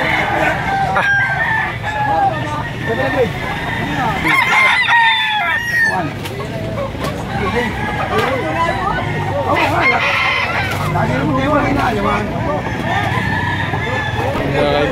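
Many roosters and chickens at a market in Lipa, Batangas: repeated crowing and clucking from several birds near and far, overlapping with people talking in the background.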